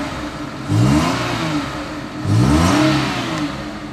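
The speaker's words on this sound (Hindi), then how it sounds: "जाने से पहले आपको थ्रॉटल रिस्पॉन्स का मैं सुना देता हूँ" The 660cc engine of a 2007 Daihatsu Esse compact hatchback is blipped twice, each rev rising and falling quickly over a steady close idle, with no talking.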